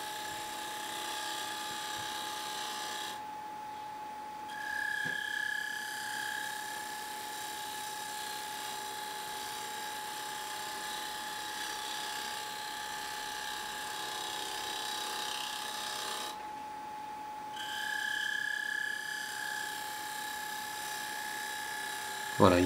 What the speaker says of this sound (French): il va dresser donc la face du bol avant d'opérer son creusage